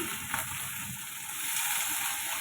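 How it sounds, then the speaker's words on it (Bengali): Steady hissing sizzle of an egg frying in hot oil, close and continuous with small pops, with no talking. "আজকে রান্না হবে দেখো, ডিম ভাজা বসিয়েছি"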